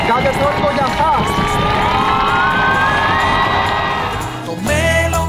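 A crowd at a Greek scout cultural gathering on Chios cheers, whoops and shouts continuously and loudly, with a brief dip near the end before the noise swells again.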